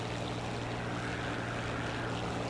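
Biplane engine in the War Thunder combat flight game, a dense, continuous propeller drone with a low steady hum, loud and unbroken throughout with no talk.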